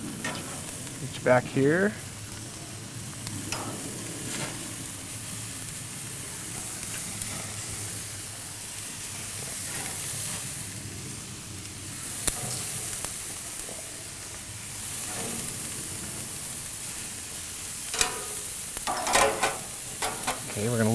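Jerk chicken pieces sizzle steadily on a hot grill as they are turned, with a continuous frying hiss, occasional scrapes and clanks of tongs, and brief talk over the cooking.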